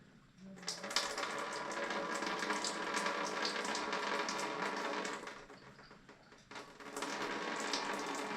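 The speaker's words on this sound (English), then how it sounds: "Use that to flush through the tube and through the hub assembly." Cleaning solution is flushed through the tube and hub assembly of a spin coater, making a steady liquid hiss and splatter that briefly dips before resuming, quiet and close.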